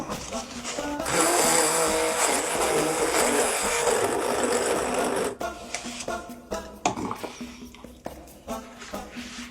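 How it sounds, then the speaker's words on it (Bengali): A blender whirs loudly for several seconds with a steady high-pitched grind while making Brazilian lemonade, then stops, leaving clattering and quieter kitchen noises. "প্রথমে এইটাকে ব্লেন্ড করব।"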